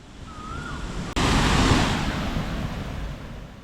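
Steady rushing roar of an artificial waterfall at Shahzeb lake in Siran Valley, fed by diverted river water, breaking in suddenly and loudly and continuing as a broad, constant wash.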